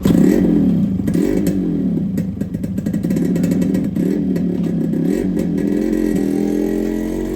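Motorcycle engines run loud and steady on a highway near Nagercoil during a two-bike trip from Kanyakumari to Kodaikanal, with a rumbling, slightly rising revving drone and clattery mechanical texture throughout.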